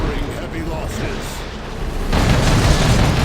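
Stormtrooper grenade going off in the real-time strategy game Dawn of War 2: Retribution, a broad noisy blast that swells in about two seconds in and holds loud over a rumbling battle bed, with game sounds throughout.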